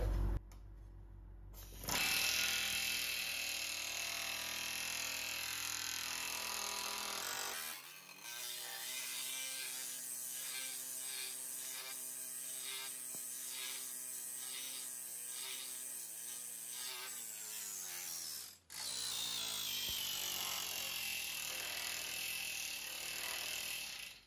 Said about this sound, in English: I'm just gonna planish that weld now.